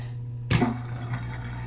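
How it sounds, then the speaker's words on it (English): Water starting to drain while cleaning mochi squishies: a sudden gurgling rush breaks in after a steady hum and keeps trickling and bubbling at moderate loudness, with no voices. "Draining the water."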